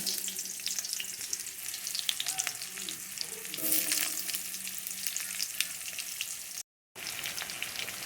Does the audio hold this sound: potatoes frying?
yes